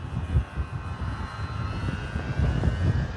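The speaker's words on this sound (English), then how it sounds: "I get used to flying into the wind and holding the plane still" An E-flite Sportix radio-controlled model airplane flies into the wind, its motor giving a steady, fairly loud whine over gusty rumbling wind noise throughout, with no voices.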